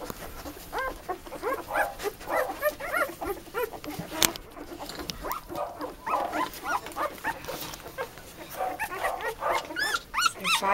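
Five-day-old newborn puppies whimpering and squeaking close up, a steady run of high thin cries and soft yelps overlapping one another throughout, with no talking.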